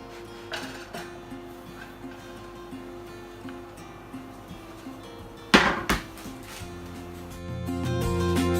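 A topping-laden pizza of pumpkin, blue cheese and baby spinach slides into a hot oven onto a preheated pizza stone, a sharp near scrape and knock over steady oven hum, with a few quieter clatters before and after.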